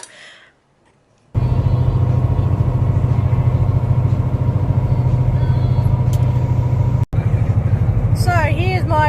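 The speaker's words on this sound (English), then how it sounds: "I am in a massive Peterbilt truck." A massive Peterbilt truck engine runs steadily from inside the cab, a loud, even low rumble that holds throughout after a brief quiet start, with a short dropout near the end.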